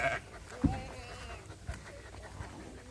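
Sheep on a farm give a short bleat, followed by a second fainter call, against quiet outdoor background noise.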